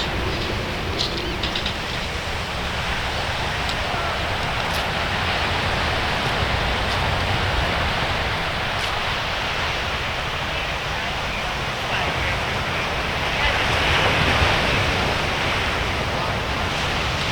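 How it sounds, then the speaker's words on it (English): Steady, broadband rushing of surf with wind blowing over it on a beach in Panama City Beach, continuous and fairly loud, with no voices. "Just the sound of the surf and the wind remains."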